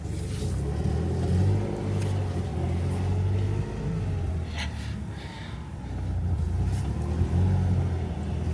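Mercedes 190E with a swapped M111 engine, throttle pedal sticking, idling and creeping in reverse: a steady low engine drone throughout, fairly close, with brief lighter mechanical ticks and no talk.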